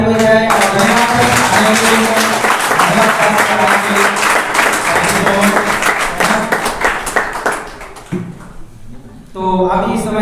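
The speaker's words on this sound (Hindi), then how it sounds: "तो क्यों ना इस समय हम जोर से ताली बजाएं" A church meeting audience claps loudly in sustained applause to welcome guests, dense and close, thinning out briefly near the end before swelling again.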